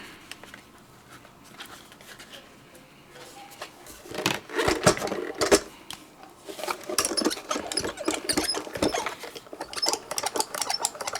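A manual die cutting machine cranks a stamp die through, giving irregular close clicks, creaks and rattling mechanical bursts that grow busier after a quiet start, with no speech.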